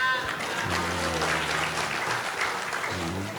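Applause from a crowd gathered at a neighbourhood-leaders meeting, steady clapping throughout with a voice speaking briefly in Indonesian over it.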